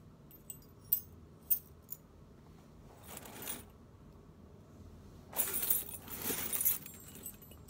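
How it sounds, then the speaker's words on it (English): Metal keys clink and jangle as they are threaded onto a large key ring, in a few sharp taps early on, then a longer, louder rattling burst toward the end. "Add 62 keys to it."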